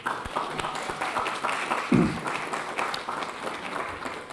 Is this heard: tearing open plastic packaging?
no